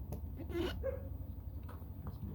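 Faint dog barks and yips sound from a distance, a few short calls spread over a couple of seconds under a low steady background hum, near a boat being worked on for gelcoat oxidation removal.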